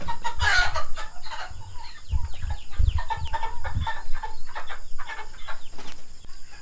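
A flock of turkeys clucking and chattering continuously, loud and close, with overlapping calls throughout.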